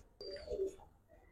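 Racing pigeons kept on a balcony give a single soft, throaty coo, quiet and fairly close, over a hushed morning background.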